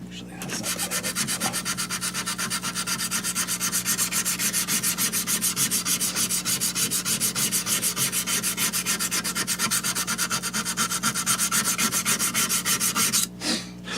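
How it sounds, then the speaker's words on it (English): A knife blade is hand sanded on a 220 grit boride stone after earlier work to 120 grit, giving a steady, continuous rasping scrub that runs close and fairly loud for nearly the whole stretch, then stops abruptly near the end. "So now I'm using 220 boride stone"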